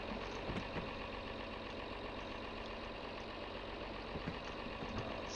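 A tractor engine running at a steady idle near a barn, a constant low rumble with faint knocks, quiet and unbroken throughout.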